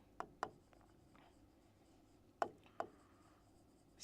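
Chalk or marker on a lecture board gives a few sharp, separate strokes in quick pairs, close and crisp against a near-silent room.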